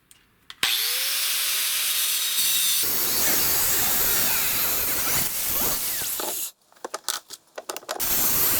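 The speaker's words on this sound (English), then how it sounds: "I'm going to cut the pipe so that it's a fresh cut." A drill-powered cutting tool whines and then rasps steadily through pipe, loud and close, before stopping and leaving a few scraping clatters.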